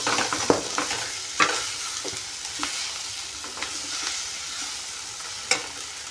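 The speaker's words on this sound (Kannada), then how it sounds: "ಖಾರ ಹಾಕಿ ಸ್ವಲ್ಪ ತಿರುಗಾಡಬೇಕ್ರಿ" A spoon stirs cauliflower and potato with chili masala in a pan, giving a soft frying sizzle broken by several sharp scrapes and knocks against the metal. The sound is close and there is no talking.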